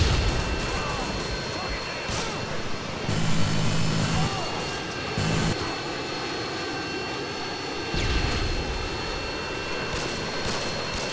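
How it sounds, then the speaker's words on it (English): Jet aircraft roar from a Harrier in the multiplayer game Call of Duty Modern Warfare 2 drones continuously at moderate loudness, with a few louder passes and bursts, behind game noise. "Enemy Harrier up."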